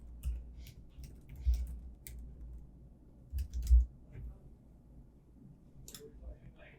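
Sparse, quiet clicks and taps of typing on a computer keyboard come in short bursts with pauses, while low background hum and faint bumps sit underneath.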